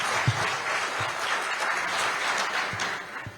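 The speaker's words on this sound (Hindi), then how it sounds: "प्लीज जोरदार तालियां बजाइए" Audience applause at a Hindi news talk event, steady dense clapping from a crowd that holds evenly for a few seconds without talk over it.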